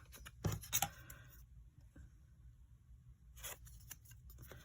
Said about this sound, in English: I'm going to come over here with my paper trimmer